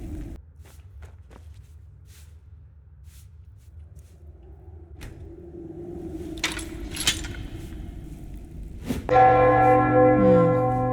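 Bells ring in the video game Enderal: after quiet footsteps and clinks, a loud, rich bell peal bursts in and sustains to the end, with no talk.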